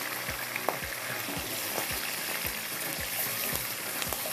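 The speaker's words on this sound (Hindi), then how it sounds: "थोड़ा ये फ्राई होंगी मिर्चें" Green chillies fry in hot oil with a continuous soft sizzle and crackle, punctuated by regular gentle stirring knocks, close and moderately quiet.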